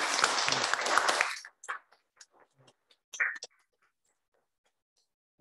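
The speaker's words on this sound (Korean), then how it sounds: "우리 공동체가 기억하고 또 격려의 박수 쳐줬으면 좋겠습니다" A church congregation at a Korean Catholic parish Sunday Mass in Guatemala claps in encouragement, a short burst of applause lasting over a second, then faint scattered taps and small noises in a quiet hall.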